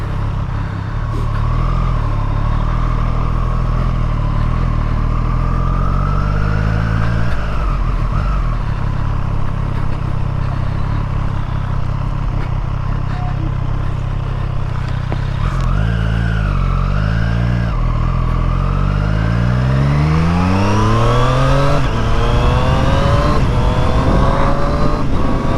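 A Triumph Street Triple 765R motorcycle rides on a road, its engine droning steadily and then rising through quick-shifted gears in repeated climbing pitch sweeps, loud and close, with wind rush and passing traffic around it.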